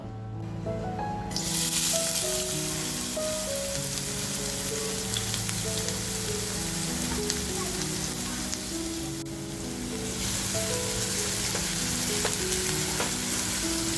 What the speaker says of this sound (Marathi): तर आपण कांदा टाकून घेऊया अगोदर